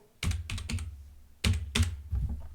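A computer keyboard is typed on in short bursts, a few quick close key clicks, a pause, then another small cluster of taps, in a quiet room.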